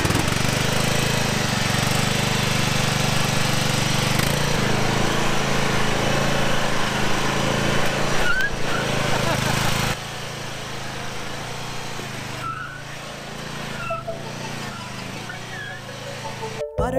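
Lawn mowers running side by side at a lawn care meet-up race between a Toro and a Scag, a loud continuous engine drone that drops to a lower, quieter hum partway through, with people talking over it.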